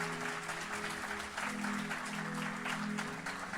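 A church congregation applauds at a Sunday service, a steady broad wash of clapping running through the whole stretch with a sustained musical tone underneath and no talk over it.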